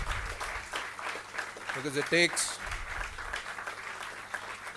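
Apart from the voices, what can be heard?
applause for the moot court winners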